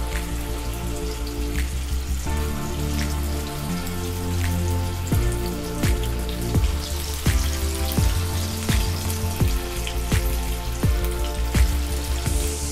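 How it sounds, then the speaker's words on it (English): Chicken lollipops coated in cornmeal deep frying in hot oil, a steady crackling sizzle with dense popping bubbles, close and continuous, alongside some clinking tonal sounds in the background. "Now we are going to deep fry the cornmeal non-veg recipe."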